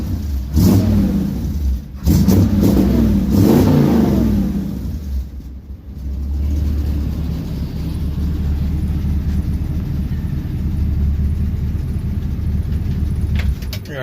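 A 1957 Chevy with a swapped-in Vortec engine runs and revs loudly nearby, with strong throttle blips early on before it settles into a steady, rumbling idle.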